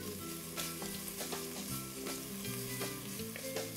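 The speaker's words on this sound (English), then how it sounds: "Give my bacon a little stir." Bacon sizzles and crackles steadily in a pan on the stove, with faint scraping as it is stirred, a close, continuous fry with no talk.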